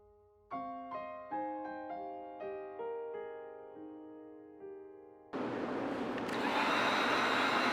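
A heat gun blows hot air across vinyl wrap on the face of a wheel, a loud steady broadband roar that starts abruptly partway through and holds to the end. Clear tonal chimes ring out before it.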